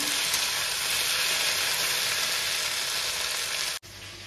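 Okra (bhindi) fries in a pan with a dense, even hiss of sizzling oil that cuts off abruptly near the end.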